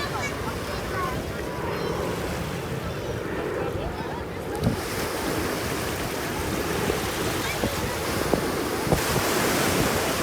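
Ocean surf washes continuously at Far Rockaway beach, a broad roar of breaking waves mixed with wind buffeting the microphone and faint voices of people in the background.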